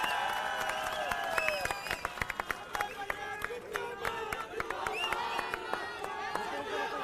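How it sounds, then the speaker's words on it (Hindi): A large outdoor political rally crowd claps and cheers to welcome a speaker, a dense roar of applause with scattered sharp claps and calls, while an amplified voice talks over the din. "जोरदार तालियों से स्वागत"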